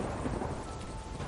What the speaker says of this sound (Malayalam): പുറത്താണെങ്കിൽ ശക്തമായ മഴയും ഇടിമിന്നലും.